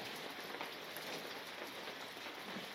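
Steady rain falling outdoors during a church service by Canoe Creek in Carson Valley, a faint, even hiss of drops on surfaces throughout with no voices.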